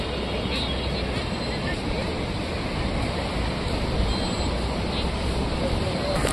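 Continuous broadband wash of surf rolling onto the beach at Puri, India, steady and fairly loud, with no distinct breaks between waves.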